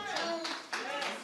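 A few people in an audience clap in scattered bursts, thin and sparse with gaps between, while a voice talks over them.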